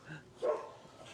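A puppy gives a single short, high yelp, brief and fairly close, among faint background noise.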